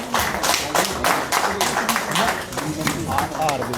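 A crowd at a political gathering claps to welcome a guest being garlanded, a quick patter of many hands rising and falling under someone speaking through it.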